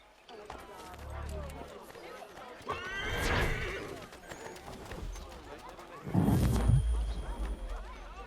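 A horse in Assassin's Creed III, the video game, gives two loud whinnies a few seconds apart, with hoof clip-clops and game sounds around them.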